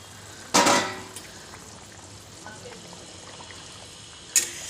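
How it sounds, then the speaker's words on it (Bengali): Pieces of fried fish drop into a simmering fish curry, each landing with a short, close splash-sizzle, two distinct drops a few seconds apart over a low bubbling background. "মাছগুলো ভেজে রাখা মাছগুলো একটা একটা করে ছেড়ে দেবো।"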